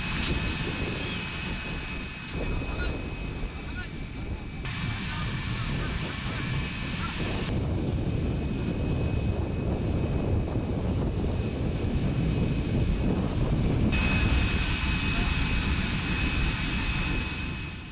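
A plane's engines drone loud and steady at the airstrip on Socotra, a continuous whine and roar that shifts slightly in pitch throughout, with a voice talking over it.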